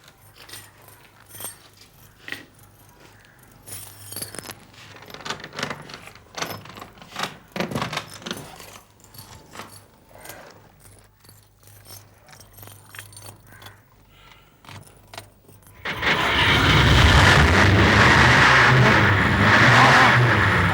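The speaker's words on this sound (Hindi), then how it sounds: "गाड़ी स्टार्ट करो।" A car with a burst silencer starts up after several seconds of key and handling noises, then its engine roars loudly and steadily to the end, with a harsh, broad exhaust sound.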